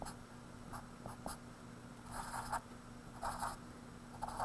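Pen or pencil sketching a cosine graph on paper by hand, soft scratchy strokes in short bursts with pauses between them, close and quiet.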